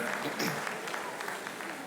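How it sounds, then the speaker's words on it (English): Applause from an audience at a Benin City comedy show in Edo State, a steady wash of clapping at moderate level with a voice briefly audible over it. "Please clap for ourselves, more celebrate ourselves"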